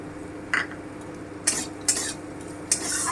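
Grated mature coconut stirred and fried with soft pointed gourd peels in a pan: a few sharp scraping strokes of a spoon against the pan over a quiet, steady sizzle.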